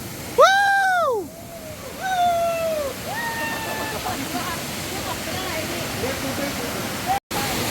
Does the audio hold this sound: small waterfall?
yes